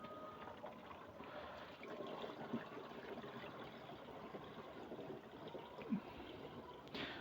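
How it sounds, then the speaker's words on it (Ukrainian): Mixed Horus fungicide solution for treating strawberries is poured into a container, a faint, soft continuous trickle of liquid with a couple of small knocks and no talk. "перемішали хорус і також заливаємо його"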